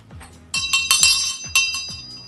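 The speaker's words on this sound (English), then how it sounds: "I'll ring the bell and I'll tell you why I ring the bell" Several bright metallic bell rings strike in quick succession, each with a shimmering ringing tail, loud and close, with no voices.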